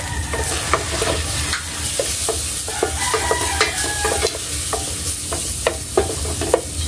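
Onion and garlic sautéing in a pan for a Filipino sopas, giving a steady close sizzle with frequent scraping stir clicks throughout, no voices.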